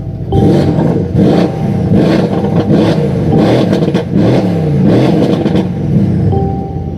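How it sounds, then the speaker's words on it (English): A Brabus 600 tuned Mercedes-AMG C63 V8 revs repeatedly in neutral, loud sharp blips rising and falling in quick bursts with a throaty bark, close to the car. "there's the V8 bark that we know from these C63s"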